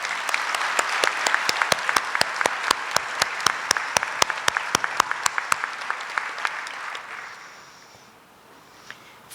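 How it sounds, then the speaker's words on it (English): A ceremony audience applauds for clinical support staff at a university graduate pinning ceremony, a broad crowd clapping with a few sharper individual claps standing out, fading to near silence at the end. "Can you please give a round of applause to our clinical support?"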